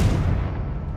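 Confringo spell blast in Hogwarts Legacy, a single heavy boom that hits hard and then rumbles away over about a second, loud and close, with no voices.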